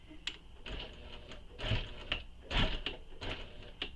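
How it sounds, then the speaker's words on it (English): A sewing machine back stitches a wallet in short stop-start bursts, a close series of quick mechanical clicks and whirs alternating forward and reverse over a few seconds. "So I'm going to go ahead and back stitch."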